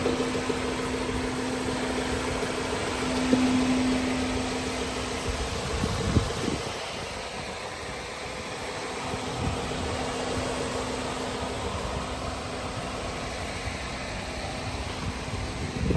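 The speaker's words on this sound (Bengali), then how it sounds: "ইঞ্জিনের সাউন্ডটা শুনে আপনারা ষোলোশো সিসি" A 2010 Toyota Corolla with a 1600cc engine idles. It gives a steady low, even hum with a faint whine and no voices, and dips slightly for a few seconds midway.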